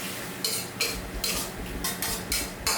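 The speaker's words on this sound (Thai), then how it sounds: "เร่งไฟแรงผัดทุกอย่างให้เข้ากันดีก่อนครับ" A spatula scrapes and stirs pork liver with dark soy sauce in a hot pan over high heat in about six quick, regular strokes over a faint background sizzle.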